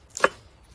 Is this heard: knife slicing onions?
yes